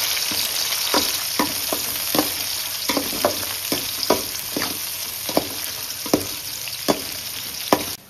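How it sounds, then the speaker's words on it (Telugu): Green chillies and onions fry in hot oil for a fish curry under a constant sizzle, while a utensil stirs them with regular scraping strokes about once a second, close and clear. "పచ్చిమిరపకాయలు ఇవన్నీ బాగా వేగేంత వరకు కలుపుకోవాలి."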